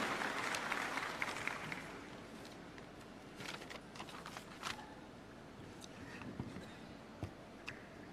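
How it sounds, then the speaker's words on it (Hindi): Audience applause at a Delhi government schools event welcoming Chief Minister Kejriwal, a broad crowd clapping that is fairly loud at first and thins out, with scattered louder claps and faint background voices. "जोरदार ताली से आइए स्वागत करें"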